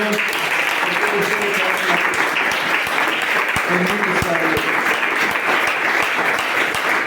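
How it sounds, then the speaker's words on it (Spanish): A church congregation breaks into loud, sustained applause that fills the room evenly for several seconds, with voices and occasional thumps mixed into the clapping. "Dale un aplauso al Señor."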